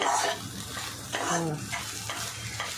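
Egg bhurji sizzles in a pan on a high flame while a spatula scrapes and stirs it in repeated, uneven strokes, with a loud and close frying hiss.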